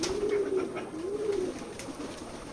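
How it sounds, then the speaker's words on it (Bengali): Pigeons cooing at a pigeon farm in Betikhola village, Keshabpur, Jessore: two soft, rolling coos in close succession over a steady background hum, moderately near and fairly quiet. "এটা আমাদের ফার্ম হাউস, কবুতরের খামার।"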